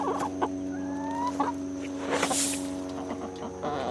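Several chickens cluck and murmur nearby in short, overlapping calls over a steady background hum.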